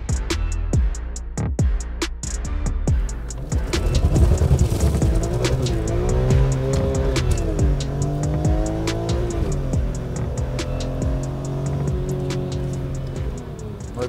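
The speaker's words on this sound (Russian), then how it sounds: "Это трушный автомобиль, он звучит, конечно." A BMW M3 E46 engine revs with a rising and falling pitch, loud and close, running steadily for about fourteen seconds after a few sharp ticking clicks at the start, with no talk.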